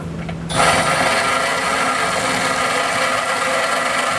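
A power tool grinds away metal to widen a bolt opening while a trailer hitch is fitted to a 2021 Ford Edge, kicking in after a brief quiet start and then running as a loud, steady whine.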